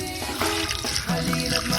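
Water pours into a cooking pot for boiling pig tails, a steady splashing stream lasting under two seconds, close and fairly loud, with no talk over it.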